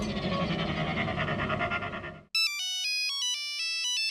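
A steady noisy rush cuts off, then an electronic phone ringtone plays a bright, repeating melody, clear and close.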